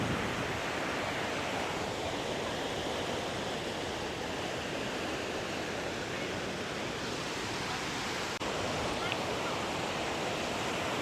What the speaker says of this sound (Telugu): చూడండి వాటర్ ఎలాగ వెళ్తున్నదో.